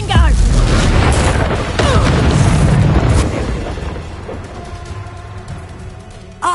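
A Confringo spell explosion in the Hogwarts Legacy video game erupts as a loud, sustained boom with rumbling debris that slowly fades, mixed with game voices and effects.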